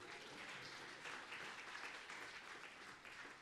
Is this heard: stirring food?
no